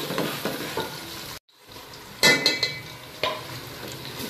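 Garlic and tomatoes fry for sabji in a pan, giving a steady sizzle with a few utensil clinks and stirring scrapes, plus a brief cut to silence partway through.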